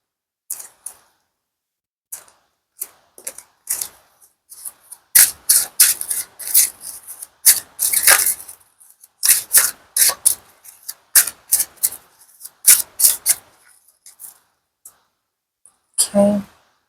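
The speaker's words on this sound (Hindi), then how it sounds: "we are shuffling the cards" Tarot cards being shuffled up close, a run of sharp, papery riffles and flicks in quick bursts with short pauses between, fairly quiet and isolated, followed by a brief voice at the end.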